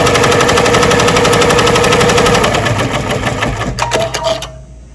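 A sewing machine stitches a custom chenille patch, producing a loud, fast, continuous mechanical chatter that slows and stops at the end with a few clicks.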